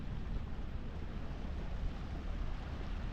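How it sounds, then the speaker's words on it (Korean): Ocean waves at a clean beach on the Goseong coast, a faint steady wash of surf and wind rumbling continuously without any talking. "파도소리 간만에 듣네."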